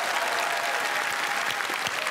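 Audience applause at a Comedy Club TV comedy show celebrating a channel's 25th anniversary: dense, steady clapping from a large crowd filling the whole stretch, with no talk.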